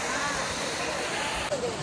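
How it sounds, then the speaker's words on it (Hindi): Water rushes steadily down the Banganga stream on the Vaishno Devi pilgrimage route, a continuous near splashing flow filling the whole moment with no pauses. "ये पानी वही तो जा रहा है नीचे।"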